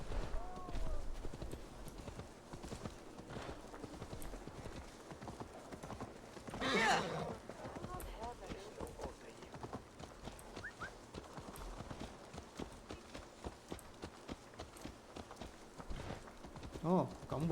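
Horse hooves clip-clop at a slow walk through a crowded town in Assassin's Creed Valhalla, a steady rhythm under continuous game ambience and someone talking over it.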